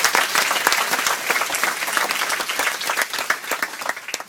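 An audience applauds a speaker's testimony at a French talk event, steady dense clapping from many hands with no voices over it.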